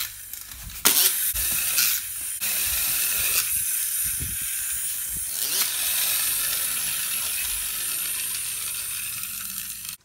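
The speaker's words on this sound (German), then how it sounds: "Und jetzt lassen wir das Feuerwehrauto mal flitzen" A toy fire truck races across a kitchen floor with a continuous high whirring hiss and rattling, starting with a few sharp knocks, then running steadily and fairly loudly throughout, no talk over it.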